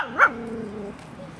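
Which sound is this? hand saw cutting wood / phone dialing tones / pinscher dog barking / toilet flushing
pinscher dog barking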